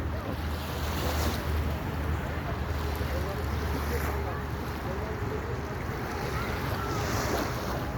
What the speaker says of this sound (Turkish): kumsalda oturuyorum böyle. Denizi seyrediyorum